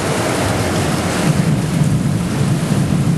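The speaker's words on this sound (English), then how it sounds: "Look at that rain." Steady heavy rain pours down during a storm, a dense, loud hiss with a low rumbling wash underneath, continuous and close with no voices.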